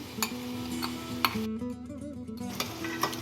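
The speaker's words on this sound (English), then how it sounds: "she's stirring in all the veggies in there" A spoon stirs potatoes, peanuts and vegetables in a pan over low heat while poha is cooked, with light scraping and sharp clinks against the pan over a faint steady sizzle.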